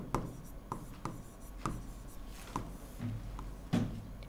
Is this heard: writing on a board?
yes